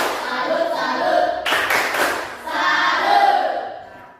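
A group claps a salute in a classroom, bursts of chanted voices followed by a sharp round of hand claps in the middle, then more chanting.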